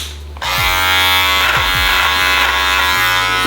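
An electric beard trimmer fitted with a smaller guard buzzes steadily and loudly up close. Its pitch dips and shifts as it passes through facial hair during an at-home trim, with no talking.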